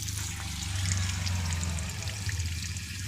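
Water pours at a roadside drinking water stand, a soft steady trickle and splash heard close by with a low background rumble and no speech.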